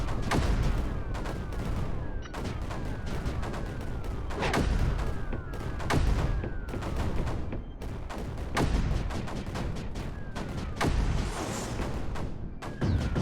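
Rapid volleys of mortar and weapon fire in the strategy game Creeper World 4, crisp repeated shots and thumps in quick clusters with brief gaps, loud and steady throughout.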